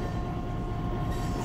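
A mile-and-a-half-long Lakeland & Black Valley coal train rolls steadily along the rails, giving a close, continuous rumble and wheel roar with no break or voices.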